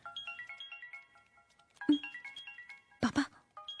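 A phone ringtone plays a repeating tinkling melody of bright electronic tones, cut twice by short bursts of speaking, then resuming briefly.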